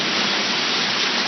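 Heavy hail pouring down hard in Baltimore, heard from beside a doorway as a loud, dense, unbroken roar of hitting ice.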